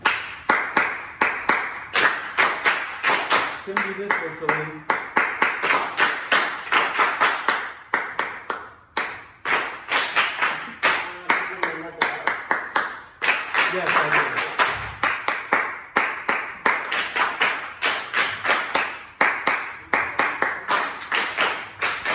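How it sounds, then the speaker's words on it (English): Students in a virtual class clap a rhythm, sharp claps in repeating patterns with brief gaps between phrases, close and fairly loud, with people talking intermittently over them. "Clap this rhythm."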